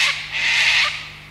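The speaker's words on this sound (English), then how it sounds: "You can hear the cockatoos in the background" Cockatoos squawk harshly from trees near a subtropical vegetable garden, two loud raspy calls in quick succession, the second long and sustained, with no talk over them.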